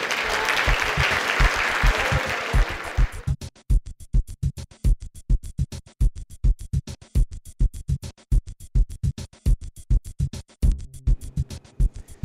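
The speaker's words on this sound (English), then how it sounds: "Give a round of applause." A corporate event audience gives a round of applause, a full crowd burst for about three seconds that thins into a long run of loud, close, rhythmic single claps.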